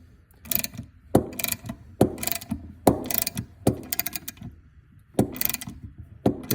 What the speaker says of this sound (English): you just tighten away and draw the crank in